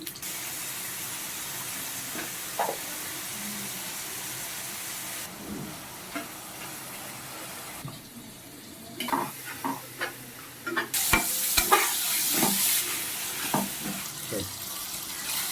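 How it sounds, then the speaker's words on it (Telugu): Chicken fry ingredients sizzle in hot oil as a spoon stirs and scrapes the pan, producing a steady frying hiss broken by sharp clatters that grow busier and louder toward the end. "ముందుగా అయితే ఆయిల్ వేసేసుకుందామండి. దీంట్లో అన్నిటిని అయితే వేయించేసుకుందాము."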